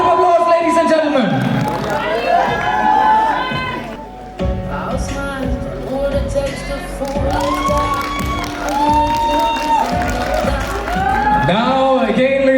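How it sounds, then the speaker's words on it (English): A large audience at the Miss Capital 2023 grand finale beauty pageant in Arunachal Pradesh cheers, whoops and applauds loudly for the second runner-up, a dense sustained roar of shouting and clapping. "A huge round of applause, ladies and gentlemen."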